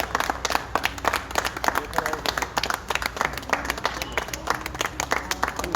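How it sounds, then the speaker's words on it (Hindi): A group of people clap their hands, a dense, steady patter of claps filling the whole stretch at moderate loudness, with some background murmur. "ताली बजा के भाई।"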